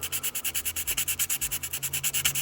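Fast, rhythmic back-and-forth sanding strokes scrape and score the enamel-painted surface of a damaged model, steady and close with no talking.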